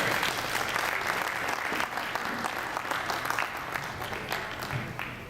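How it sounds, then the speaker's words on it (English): Audience applauding at a press conference in Welland, a steady dense wash of clapping from a crowd that holds evenly for several seconds at moderate loudness. "Round of applause for George."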